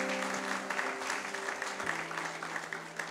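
A church congregation applauds a psalm passage during a sermon, a dense, sustained clapping from a crowd heard throughout at moderate distance with a held musical tone underneath.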